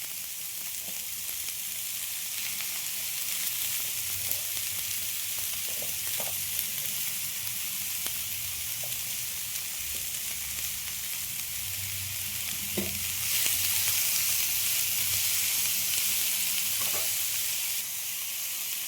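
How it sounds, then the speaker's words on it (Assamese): Grated carrot sizzles in a pan for an egg curry, a continuous close crackle with faint stirring clicks, growing slightly louder toward the end. "গাজৰ দিলোঁ, যিখিনি গ্ৰেট কৰি থৈছিলোঁ এই গাজৰখিনি ইয়াতে দি দিলোঁ।"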